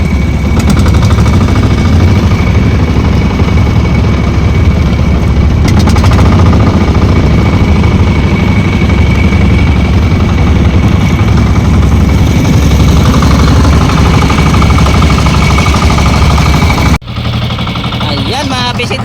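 A boat engine runs loud and close with a rapid, hammering chug that continues steadily before cutting off abruptly near the end, followed by quieter background.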